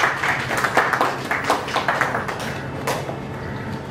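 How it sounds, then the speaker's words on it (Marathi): A live audience at a Marathi film trailer launch event claps for actor Ajay Jadhav, scattered moderate applause from a modest crowd that swells in bursts, then thins and fades toward the end. "अजय जाधवजी यांच्यासाठी जोरदार टाळ्या झाल्या पाहिजेत."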